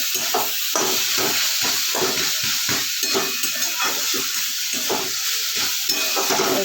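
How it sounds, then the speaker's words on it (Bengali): Shushunia greens frying in a pan, a loud continuous sizzle broken by regular scraping and stirring strokes of a utensil, close up with no talking. "5 মিনিটে শুশুনিয়া শাক ভাজা হয়ে গেল"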